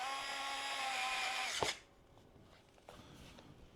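Electric screwdriver driving a screw, a loud whirring motor for about a second and a half that stops sharply, followed by faint handling clicks and quiet rustling.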